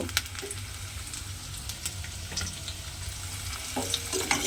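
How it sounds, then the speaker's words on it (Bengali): Potatoes frying in hot oil give a steady close sizzle with crackling pops and a few scraping stirs, with no talk. "আলুগুলো আমার এখানে খুব ভালোভাবে ভাজা হয়ে গেছে।"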